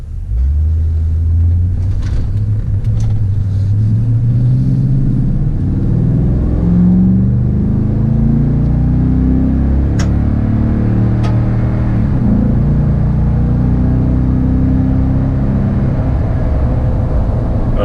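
A Toyota Tundra with a Borla dual exhaust accelerates, giving a steady, moderately loud low engine rumble that rises and swells in pitch as the throttle opens, with no talk over it.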